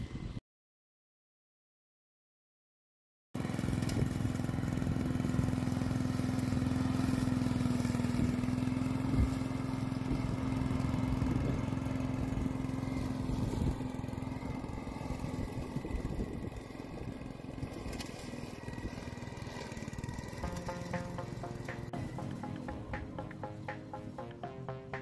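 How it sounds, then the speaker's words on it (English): A lawn mower cutting grass on a homestead in Portugal, a steady droning engine that runs continuously after a short silent gap, fairly close and shifting slightly in pitch, with no talk. "Mowing the grass."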